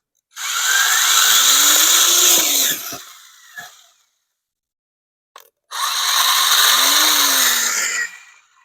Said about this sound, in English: the actual auger itself is going well below the surface line.